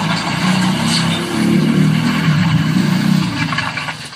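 A toy truck gives off a loud, continuous buzzing motor drone close by, swelling in pitch partway through and holding steady before easing off at the end, with no talking.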